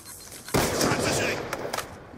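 A single loud gunshot blast from a video game trickshot bursts out suddenly, followed by a rumbling tail and a couple of faint clicks.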